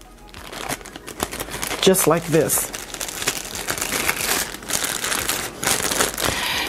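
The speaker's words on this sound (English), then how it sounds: "then I stuck it in the plastic bag" A plastic bag crinkles and rustles as an avocado seed wrapped in a moist towel is pushed inside. A person talks over the sound.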